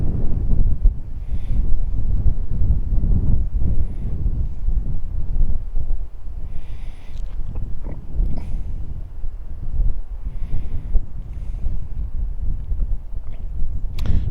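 Strong gusty wind buffets a microphone outdoors while a DJI Mini drone flies home with the wind, a loud continuous low rumble with fluctuating gusts and a few faint higher whines above it.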